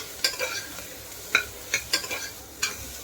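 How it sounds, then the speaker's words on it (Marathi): Close-up stirring of vegetables for pasta in a pressure cooker: a soft sizzle underneath sharp, irregular spatula scrapes and clinks against metal, with no talking. "आता हे बघा असं परतून घेऊया"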